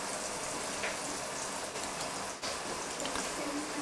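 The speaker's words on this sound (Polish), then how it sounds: "Ale mocny deszcz!" Heavy rain in the RimWorld colony-building game, a dense constant hiss of falling drops drumming on surfaces, loud and unbroken with no talk.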